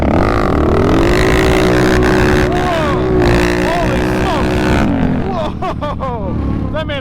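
An ATV engine revs and pulls hard in four-wheel drive, a loud close drone whose pitch rises and holds, with excited voices talking over it.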